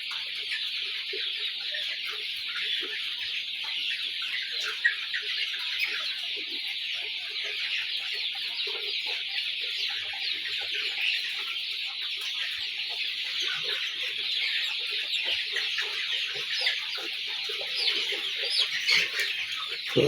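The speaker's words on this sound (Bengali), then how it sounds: "দেখেন মুরগি খেলা খেলা করে।" A flock of forty-day-old brown cock chickens in a poultry house keeps up a dense, continuous chorus of high-pitched clucks and chirps, with occasional louder calls standing out nearby.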